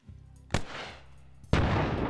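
High-explosive mortar rounds landing in a military video game: two sharp, loud blasts about a second apart, each followed by a rumbling roar, with no voices.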